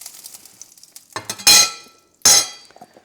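Frozen meat dropping into a hot, oiled cast iron pan, giving two loud bursts of sizzle each fading quickly, with light clinks of utensils and cookware between them and no talk.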